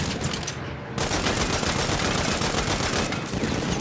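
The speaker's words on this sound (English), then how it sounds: "They've got a turret." A gun turret in the video game Saints Row fires in a rapid, continuous automatic burst, loud and close, with a brief dip early on before the rattling stream resumes.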